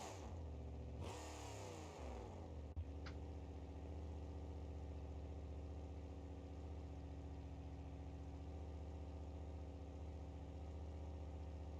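A monster truck engine fitted with a custom exhaust, in a BeamNG.Drive game, revs briefly near the start and then settles into a steady, loud, close idle rumble that runs throughout.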